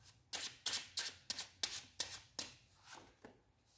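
Tarot cards shuffled by hand during a love reading, about eight crisp regular riffles in a steady rhythm, close and quiet, fading slightly at the end, with no talking.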